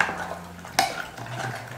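A spoon stirs sambar in a metal pot, giving soft scraping and a sharp clink of utensil on metal near the middle of a short, quiet stretch.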